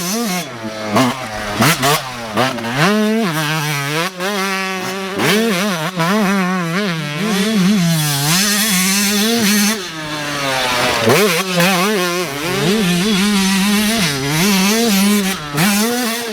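A Yamaha YZ125 two-stroke dirt bike engine revs loud and close, its buzzy, high-pitched note climbing and falling repeatedly with no speech.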